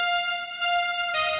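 A bright, sustained synth tone with rich harmonics, held steadily and wide, shifting timbre slightly midway and again near the end.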